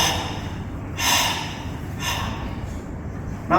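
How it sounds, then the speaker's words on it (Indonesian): During a Goju karate breathing exercise, several forceful breaths rush out in strong bursts spaced about a second apart over steady room noise, close and loud with no talking. "Tarik napas 2 kali, dorong 3 kali"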